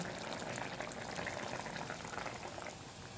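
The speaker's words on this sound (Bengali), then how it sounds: "এবার আবার কিছুক্ষণ ফুটতে দেব" A vegetable curry with lentil dumplings bubbling in a pot, making a faint, steady rolling boil with dense low gurgling and no voices.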